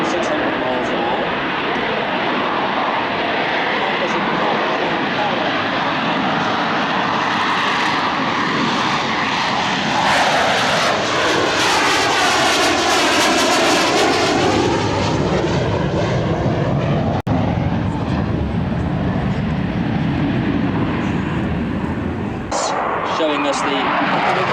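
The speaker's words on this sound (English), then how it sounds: "demonstrating the very low-speed flying of the Harrier, also fast flying as well" A Harrier jump jet performing low-speed and fast passes at the 2004 Biggin Hill airshow, its loud, continuous jet roar swelling and sweeping past with a clear Doppler shift midway, while a commentator talks throughout.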